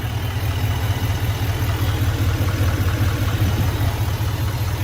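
The 6.6-liter turbo diesel V8 of a 2024 Chevy Silverado 2500HD idles loudly and close by, a steady low rumble with faint clattering, and no voices.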